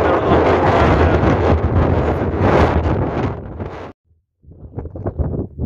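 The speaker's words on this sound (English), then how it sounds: "This wind is very challenging, but it's great, keeping me nice and cool." Strong wind buffets the microphone during a bicycle ride on a cement road alongside Route 62 near Oudtshoorn, a loud, constant roar that cuts out abruptly, then returns in gusty bursts.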